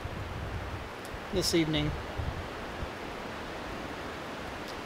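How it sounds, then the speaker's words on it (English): Strong wind through tall spruce pine woods in the mountains in winter, a steady broad rushing roar that carries throughout, with a voice briefly speaking over it. "The wind's supposed to calm down"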